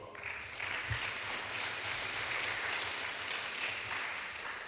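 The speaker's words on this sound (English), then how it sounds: "So give a round of applause as well for Mr. Wong." Audience at a youth leaders' summit applauds a panel speaker, a broad even round of clapping that swells quickly and carries on steadily at moderate volume.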